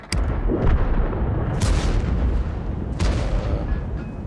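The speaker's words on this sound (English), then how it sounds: "The T10 puts a shot into me" A tank cannon shot strikes in the World of Tanks video game, coming as heavy booming impacts with a loud burst near the start and sharp cracks around the middle and later, over a dense rumbling battle din.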